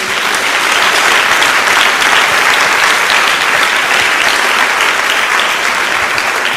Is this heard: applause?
yes